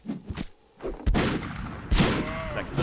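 Gunfire in a multiplayer Western-style shooter game, with several sharp, loud shots and reports over busy background game noise, including a strong blast near the start of the second half.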